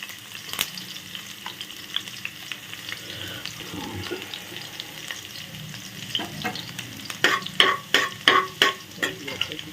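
Julienned ginger frying in a pan, an ongoing sizzle with stirring scrapes, ending in a run of sharp utensil knocks against the pan, close and moderately loud.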